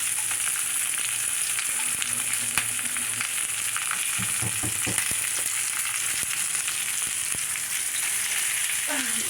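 Pork sinigang ingredients frying in a pot, a loud continuous sizzle with crackling pops and occasional clatter of stirring, close up and without speech.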